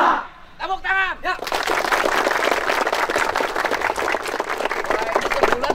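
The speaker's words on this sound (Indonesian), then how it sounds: "Tepuk tangan." A group of schoolchildren breaks into dense, steady applause after a short vocal sound, the clapping loud and sustained for several seconds.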